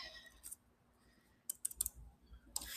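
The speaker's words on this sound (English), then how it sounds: "typing with one hand" One-handed typing on a computer keyboard, heard as a few quiet, close key clicks in small clusters with pauses between, against a faint, otherwise quiet room.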